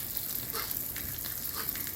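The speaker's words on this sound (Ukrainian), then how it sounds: "Ви чуєте, як шкварчить моя страва?" Soft, steady sizzling of potatoes and meat frying in a pan, a continuous crackly hiss at low volume with no voices.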